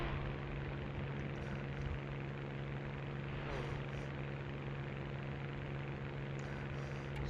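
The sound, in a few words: propeller fighter aircraft engines in War Thunder video game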